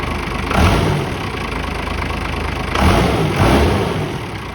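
A car engine being revved and held at about 2,000 rpm, a loud, steady drone up close with two brief surges in pitch and volume and no talking.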